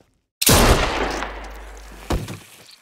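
A single loud gunshot in The Walking Dead: A New Frontier video game, an abrupt blast after silence with a long booming tail, followed by a second sharp impact sound that fades out.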